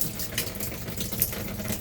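Water runs from a sink sprayer in a 2019 Micro Lite camper, a steady, close splashing rush into the basin that continues without pause.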